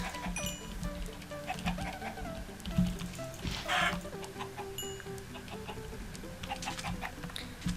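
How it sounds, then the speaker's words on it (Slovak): Minecraft chickens cluck and murmur continuously over a low hum, with sporadic short squawks and pecking clicks, fairly close and moderately quiet. "Tak, ešte tu je ďalšia sliepka."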